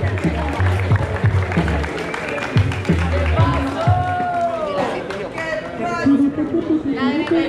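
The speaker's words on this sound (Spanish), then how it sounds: "¡Fuerte aplauso para ellos!" Applause and cheering from a crowd at a semifinal street dance battle, a brief burst of clapping mixed with shouts and chatter, fairly close and loud.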